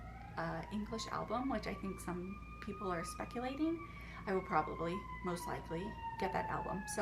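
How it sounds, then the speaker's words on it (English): A city siren wails in the background, rising and falling steadily under continuous close speech. "Sorry for the sirens."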